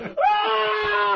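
A voice imitates a mother's anguished scream, a single loud, sustained wail with a rising onset that holds steady for about a second.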